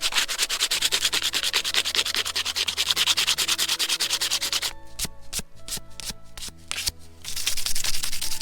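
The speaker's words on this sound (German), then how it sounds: "Dazu einfach ein Stück Sandpapier." Sandpaper rubs over a hand-carved wooden spatula in quick, rhythmic back-and-forth strokes, close and loud, pausing briefly before resuming.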